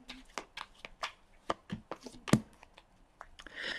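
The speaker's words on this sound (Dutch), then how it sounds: "Dan de kaarten schudden" Tarot cards being shuffled by hand in a quiet room, a series of crisp riffling flicks and soft slaps in an irregular rhythm, close and fairly quiet, with no talking.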